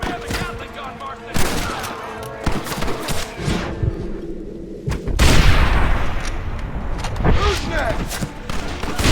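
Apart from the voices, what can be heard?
Gatling gun firing in Red Dead Redemption video game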